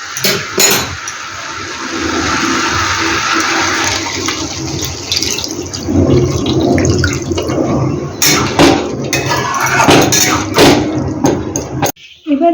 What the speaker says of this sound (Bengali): এবার আমি এর মধ্যে পরিমাণ মতো জল অ্যাড করব।